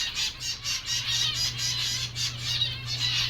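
A dense flock of birds keeps up continuous squawking and chirping in pulsing bursts, loud and close, over a steady low hum.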